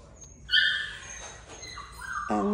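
Golden retriever puppies whimper and yip faintly in the background, thin high whines rising and falling over a couple of seconds with no talking over them.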